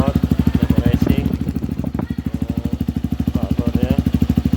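A Honda CRF 150 dirt bike fitted with a Repo Racing exhaust idles close by, a steady fast throbbing pulse that runs throughout, with someone talking over it.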